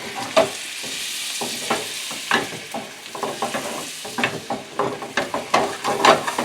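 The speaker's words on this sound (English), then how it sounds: "Get these garlic cloves in there like that, sliced. And they will start to caramelize in just a few." Sliced garlic cloves frying in butter over high heat, a close, steady sizzle punctuated by repeated scraping and clacking as the pan is stirred, with no talking.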